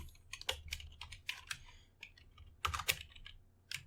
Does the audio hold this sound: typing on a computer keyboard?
yes